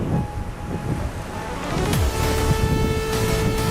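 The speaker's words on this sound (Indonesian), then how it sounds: "Wah, angin." Strong wind blows outdoors at Paropo, a loud continuous roar buffeting close by and swelling stronger halfway through, with no speech.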